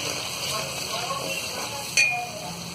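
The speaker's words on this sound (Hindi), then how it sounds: "और इसे भी हम थोड़ी देर भून लेंगे।" Ginger garlic paste and biryani masala frying in a pan for egg dum biryani, a steady close sizzle with a brief sharp clink of a utensil partway through.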